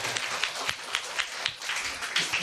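Scattered applause at a school report-card and ranking award ceremony, a small group clapping in loose, uneven bursts with distinct individual claps.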